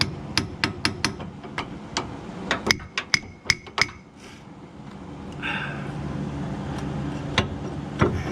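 Sharp metallic hammer blows strike a control arm on a 1995 Chevy Tahoe, a quick irregular series of a dozen or so clanks, then a lull and a couple of final knocks.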